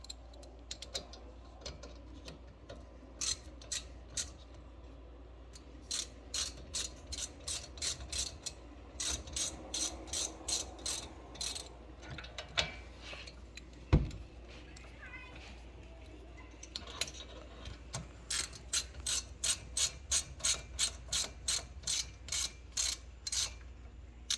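A hand ratchet tightens T45 bolts on an Alfa Romeo brake caliper, producing long runs of rapid, close, crisp clicking in repeated bursts, with a voice talking between strokes.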